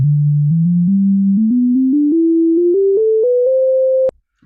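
Pure sine wave tones step upward one note at a time in a major scale, clear and loud from a computer speaker, ending abruptly with a click.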